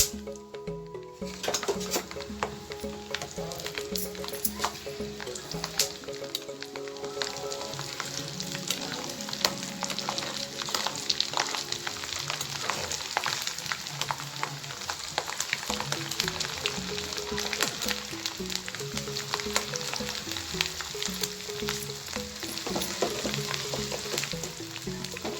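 Garlic fries in oil for a prawn pickle, giving a steady, dense sizzle throughout with occasional scraping and clinking of a utensil against the pan. There is no talking.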